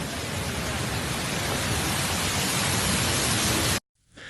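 Torrential rain during flooding in Barcelona pours in a dense, steady roar for nearly four seconds, then cuts out abruptly into near silence before a softer wash returns.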